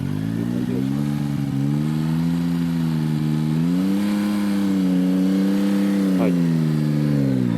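A Yamaha MT-09 motorcycle engine runs at a low, steady idle-to-part-throttle note during a slow U-turn at the top of a mountain pass, rising slightly mid-way with a brief voiced word over it.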